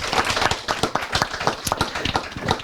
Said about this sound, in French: On s'applaudit parce que quand même c'est vachement important de s'applaudir en début d'émission.